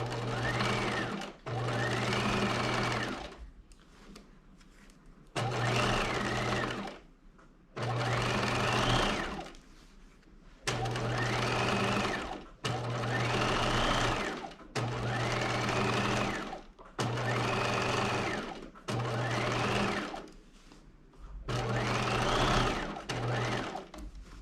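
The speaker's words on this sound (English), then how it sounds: "I'm going to stitch about 1/8 of an inch from the seam line." A sewing machine stitches a collar seam in about nine steady runs of a few seconds each, a close, even whirring hum separated by brief pauses.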